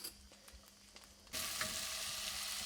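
Onions hit a hot pan for beef stroganoff and a loud, steady sizzle bursts in halfway through, after a quieter stretch with faint kitchen clatter.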